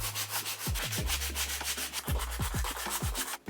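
Wood is sanded by hand with sandpaper in repeated back-and-forth rubbing strokes, close and steady, with no one talking.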